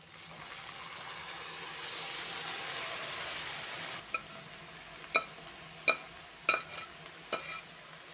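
Beef pieces go into a hot pan for a stir-fried beef and potato dish, with a steady sizzle for the first few seconds, then quieter frying broken by several sharp scrapes and clacks of a spoon stirring.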